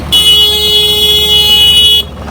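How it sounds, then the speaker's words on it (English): One long, loud, steady horn blast sounds for about two seconds up close, then stops. "He knows how to honk, though."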